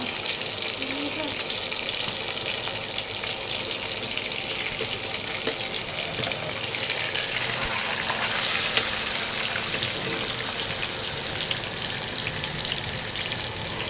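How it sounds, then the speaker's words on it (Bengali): Fish frying in a pan during home lunch preparation, a steady close hiss and crackle of hot oil continuing throughout with slight swells in intensity. "মাছ ভাজা হচ্ছে"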